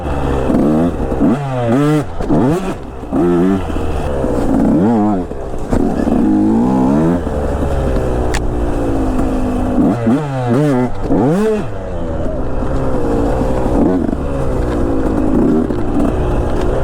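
KTM 125 enduro motorcycle rumbling and revving in bursts as it rides over a small log ramp on a trail, the two-stroke engine loud and close with speech mixed in.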